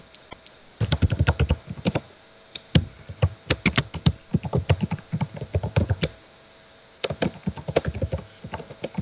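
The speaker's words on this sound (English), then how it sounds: "What are you typing out there, hammer fingers?" A computer keyboard is typed on hard and close by, with bursts of rapid clacking keystrokes separated by short pauses.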